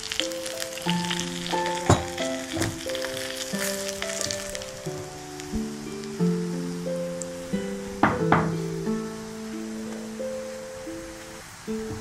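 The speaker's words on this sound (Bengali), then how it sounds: "সুজিটা কিন্তু অল্প আঁচে ভাজতে হবে" Semolina frying slowly on low heat for sweet semolina halwa, a soft steady sizzle running underneath a prominent melodic music track for the whole stretch, with a few sharper clinks near the middle.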